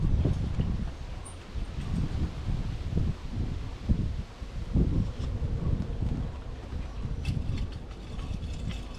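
Steady wind gusts through a greenhouse garden in autumn, a continuous low rumbling rush with slight swells, fairly close to the microphone and without talk.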